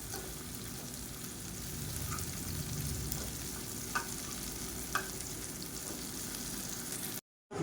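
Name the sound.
plantain pieces frying crisp in a pan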